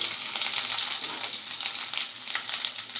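Ginger garlic paste sizzling in a hot pan while egg biryani is being cooked, a steady dense frying hiss that continues close up throughout and is heard alone.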